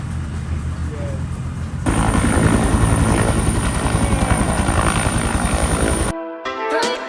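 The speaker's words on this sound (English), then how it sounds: "Oh, Ash, helicopter's taken off." A helicopter takes off, its rotor and engine roaring up loudly and steadily close by, a rhythmic chop throughout, before cutting away abruptly near the end.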